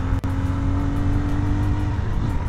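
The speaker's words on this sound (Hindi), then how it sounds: "अभी हम लेके निकले हैं नया मोटरसाइकिल जावा 42 FJ" A Jawa 42 FJ motorcycle engine hums steadily and close during a ride, with a single brief drop near the start and a faint rise in pitch toward the end.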